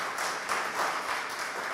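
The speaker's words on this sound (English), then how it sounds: "And yes, give Maria a round of applause." A church annual meeting crowd gives a steady round of applause, a continuous wash of many hands clapping at moderate level with no break.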